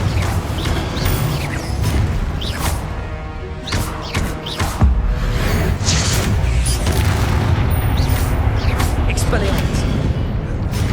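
Confringo blasting spell explosions in Hogwarts Legacy, loud booming blasts and thuds repeating amid dense combat noise, with a voice shouting spell names over them.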